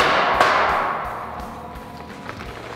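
Pins are hammered into a bucket attachment in a workshop, with a sharp metallic strike near the start and a few lighter taps and knocks fading afterward, close by and with no speech.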